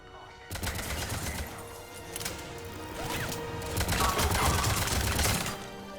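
Rapid gunfire from a sci-fi shooter video game, sustained bursts of shots and mechanical clatter filling the scene at steady loudness, with little talk.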